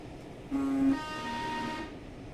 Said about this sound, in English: I quite like the wheel spin sound though